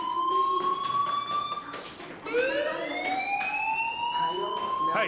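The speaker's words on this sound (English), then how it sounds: "Hey, do you hear that fire alarm?" A fire alarm in the video game Life Is Strange wails in repeated rising sweeps, loud and continuous for about five seconds, with a short dip partway through and faint voices beneath.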